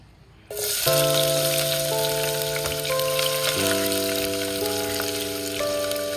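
Onion goes into hot cooking oil in a pan for pininyahang manok. After a quiet half second, a loud, steady sizzle bursts up close and carries on without a break.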